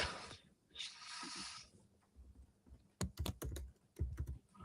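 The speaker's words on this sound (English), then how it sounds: "Very conscious of how heavy I'm hitting my keyboard now." Someone typing heavily on a computer keyboard: a few soft taps and a rustle, then a burst of sharp, close keystrokes in quick uneven clusters, with no talk.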